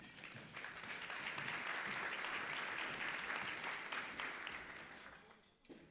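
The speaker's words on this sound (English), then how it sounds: "Please join me in welcoming her with a round of applause." A conference audience applauds to welcome a speaker, broad continuous clapping from many people that holds steady before tapering off near the end, with no voices over it.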